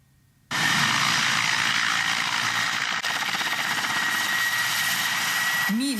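Mi-8 military helicopter on a combat sortie in eastern Ukraine, its rotor and turbine roar starting abruptly and holding loud and close, a dense continuous thrum for several seconds.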